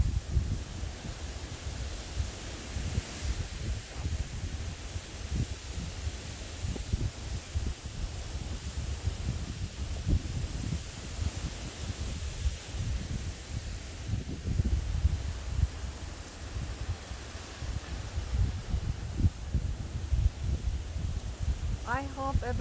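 Strong wind gusting through leaves outdoors near mountains, a steady broadband rushing and rustling with microphone buffeting, lasting the whole stretch while a person talks over it.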